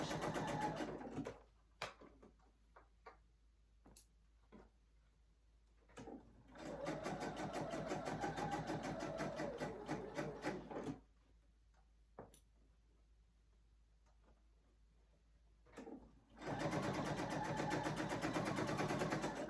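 A sewing machine stitches a temporary holding seam on a zipper project bag, running off the edge of the fabric in three steady bursts separated by pauses and small clicks from handling. It is close and clear, with no talk.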